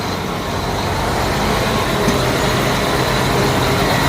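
A tractor engine runs steadily nearby as the machine is moved into a shop, giving a continuous, loud diesel rumble with no break and no talking.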